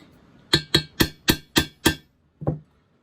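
A hammer strikes a metal punch to mark a hole during a vintage Honda CL350 motorcycle restoration: six sharp ringing taps in quick succession, then a pause and one softer final tap, close and alone.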